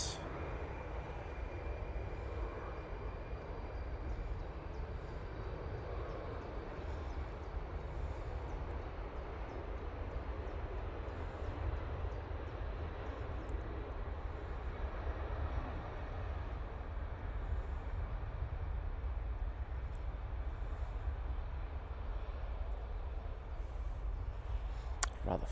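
An Embraer jet airliner taking off at Manchester Airport, a steady broadband engine roar heard from a distance, fairly faint and unchanging for the whole stretch, with no voices.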